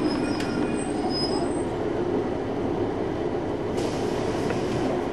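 A passenger train runs on rails, a steady loud rumble with a high wheel squeal early on and a brief rattle later, heard from on board.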